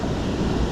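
Floodwater rushing out of a flooded lake, a steady, loud broadband roar of moving water with wind buffeting, continuous throughout with no pauses.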